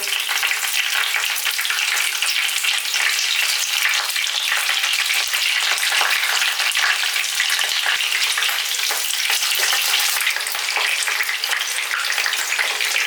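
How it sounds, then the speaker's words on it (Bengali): Chingri paturi, prawn parcels wrapped in bottle gourd leaves, fry in hot oil over a low flame, giving a loud, dense, continuous sizzle that holds steady throughout with no voices. "এবার এক এক করে তেলে পাতুরিগুলো বসিয়ে দেবো"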